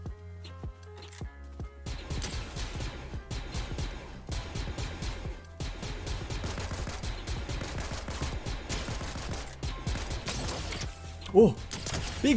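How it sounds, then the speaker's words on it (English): DC-15 blaster shots ring out in Fortnite in quick, irregular volleys of sharp reports, mixed with other game noise and continuing for most of the stretch. "DC-15 blaster only, dude."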